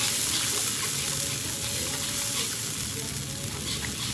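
Red curry paste stir-fries with a splash of water for a spicy frog stir-fry, giving a dense, continuous close-up sizzle and bubbling with faint stirring throughout.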